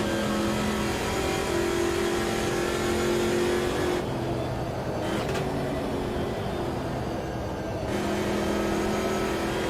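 Montana race cars with side exhausts roaring around an oval in Automobilista 2, a sustained loud engine drone reverberating off the wall, shifting pitch as the car lifts and downshifts, with brief dips in tone.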